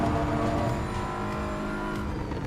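A race car engine held at full throttle in Assetto Corsa EVO, a steady, loud, continuous drone with a sustained high-revving tone and no breaks or lifts, heard alone.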